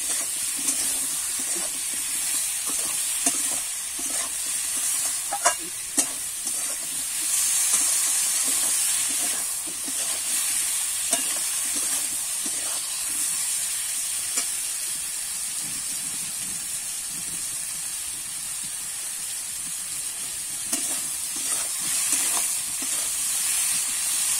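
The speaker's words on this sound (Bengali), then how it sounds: "এই লবণ হলুদ দিয়ে কিন্তু একটু ভালো করে ভেজে নেব" Rohu fish pieces frying with salt and turmeric in hot oil hiss and sizzle steadily up close, with occasional sharp crackles and spatters over a continuous bright hiss.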